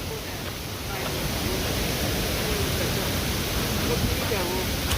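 Neer waterfall near Rishikesh pours in a steady, dense roar of falling water that fills the whole clip, with voices faintly under it.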